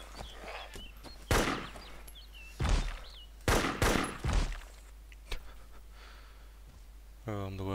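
Gunfire in the video game ARMA 2 DayZ: a handful of sharp, loud shots ring out at irregular intervals, some in quick pairs, over a quiet background.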